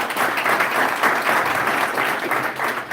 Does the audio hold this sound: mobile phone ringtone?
no